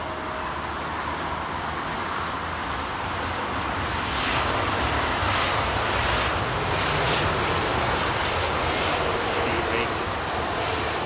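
A Scandinavian Airlines jet at Heathrow Airport on Christmas Day gives off a continuous, fairly loud broadband engine roar that holds steady and builds a little partway through.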